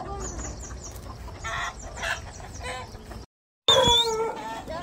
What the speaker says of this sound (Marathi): आज आपण आलो आहोत गावरान कोंबड्याकडे आपल्या.